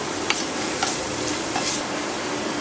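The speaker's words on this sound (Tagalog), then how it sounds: "Gisa tayo, sibuyas, puti, bawang." Onion and garlic sautéing in a pan for Filipino chopsuey, a loud continuous sizzle near the microphone broken by several sharp scrapes and taps of a utensil stirring, with no voices.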